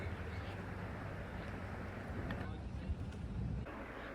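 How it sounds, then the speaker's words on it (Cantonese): A Venice vaporetto water bus on the Grand Canal: a steady, droning engine rumble mixed with wind and water noise, continuous throughout. "呢趟船呢係巴士嚟嘅，叫做 Vaporetto。"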